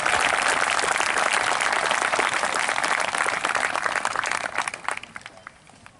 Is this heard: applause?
yes